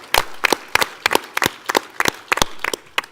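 Conference general-session audience in St. Louis applauding, heard as a sparse run of about a dozen sharp, distinct claps in quick succession, fairly close and loud.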